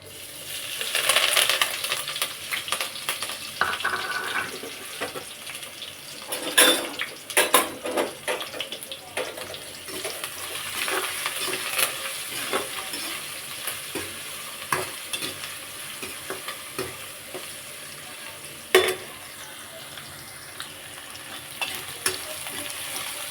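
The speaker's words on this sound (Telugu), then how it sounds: "నేను పోపులు వేస్తున్నాను" Spices crackle and sizzle in hot oil in a pan as a tempering of onion, green chilli, dried red chilli, curry leaves, garlic, cumin and mustard seeds is fried for drumstick dal, with steady frying noise, occasional utensil clinks and sharp pops.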